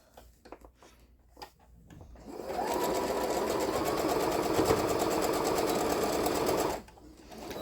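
A sewing machine stitches a line across a felt snowflake ornament, running steadily for about four seconds after a few soft handling clicks, close and fairly loud before stopping.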